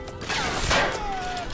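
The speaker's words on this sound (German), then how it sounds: "Gut, das war ein guter Schuss." A sharp gunshot burst in the video game BioShock, followed by a thin ringing whine and clattering effects, loud and close.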